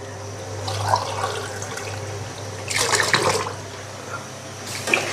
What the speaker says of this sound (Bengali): দিয়ে দিলাম 2 মগ পানি।